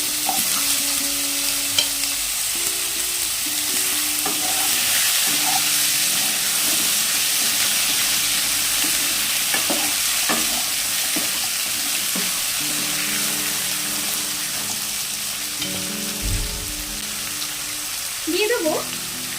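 Two large potatoes cut into long pieces fry and sizzle in a pan while being stirred, a steady hiss with intermittent scraping and clinking of the spatula. A voice speaks in places.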